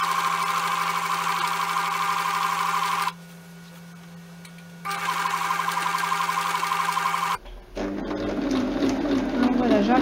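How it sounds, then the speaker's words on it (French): Sewing machine stitching a cushion cover with a large-print fabric, running in two steady motorized bursts separated by a short pause, then stopping as louder handling noise follows. "je fais tout pour suivre évidemment la petite rainure sur le côté pour pouvoir coudre droit."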